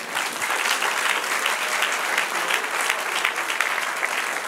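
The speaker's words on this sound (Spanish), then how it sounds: "Dale un aplauso, Señor." A church congregation claps together in steady, full applause that carries on evenly with no break and no voices rising above it.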